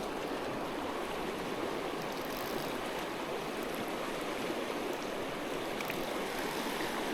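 River rapids rush in a steady, dense roar of churning water, unbroken and moderately distant, with no voices over it.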